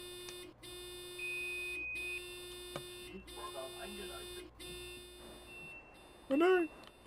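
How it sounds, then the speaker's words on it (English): A train's warning buzzer in the Train Sim World 5 game drones in long steady tones, broken by short gaps, with a person talking over it and a brief burst of louder sound near the end. "We can get rid of this horrible beeping train."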